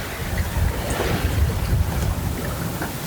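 Water fizzes and rushes along the hull of a sailboat running wing on wing on the ocean. The wash is steady and close, mixed with soft wind noise, and no one speaks.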